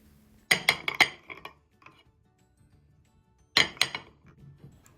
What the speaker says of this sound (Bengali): এবার বাটিগুলিকে আমি একটু ট্যাপ করে আমি সমান করে নেব সুজিটাকে যাতে ভেতরে কোনো বাবল না থাকে